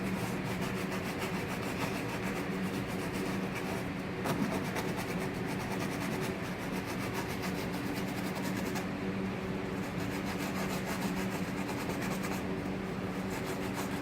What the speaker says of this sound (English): Use that scrub brush and wipe it off